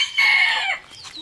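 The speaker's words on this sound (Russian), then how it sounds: "А смотрите, какие петушки вот здесь." A fluffy, crested rooster at a zoo crows once, loud and close, in a drawn-out call that trails off, followed by quieter faint bird sounds.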